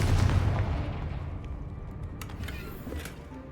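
A Confringo fire spell in Hogwarts Legacy lets off a loud, booming blast at the start that fades into a rumbling tail, with faint game sounds after.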